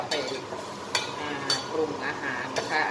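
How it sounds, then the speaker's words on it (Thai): Minced pork stir-cooking with water in a pan, a close bubbling sizzle with a few sharp utensil knocks against the pan. "เราก็เอาหมูมารวนกับน้ำให้มันสุกก่อนนะคะ"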